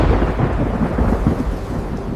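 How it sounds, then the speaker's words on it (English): Thunder rumbles loud and continuous through a storm, a deep rolling roar with no talking over it. "That's real thunder."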